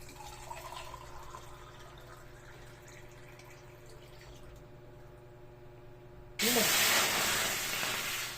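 Water pours into a pot for cooking ramen, arriving as a sudden loud, steady rush near the end after a quiet stretch of low room hum.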